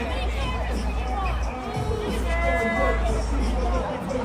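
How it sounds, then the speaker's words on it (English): A crowd mills on a Portland street, a dense hubbub of overlapping voices and chatter with steady low rumble beneath, nearby talk rising out of the babble. "There's a crowd over there"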